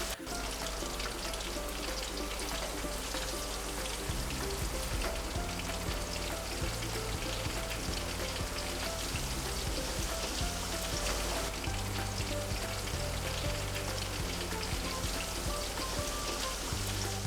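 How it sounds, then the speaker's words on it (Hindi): Pieces of Lahori masala fish frying in hot oil, giving a dense, unbroken crackling sizzle that holds steady and loud throughout, close up, with faint background music beneath. "सेम इसी प्रोसेस को फॉलो करते हुए आपने बाकी के तमाम पीसेस को भी फ्राई कर लेना है"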